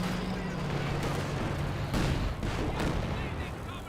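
Panzer Barrage artillery fire in the strategy game Company of Heroes 2 rumbles in a dense, continuous wall of explosions and booms, with a couple of heavier impacts, under a commentator's voice.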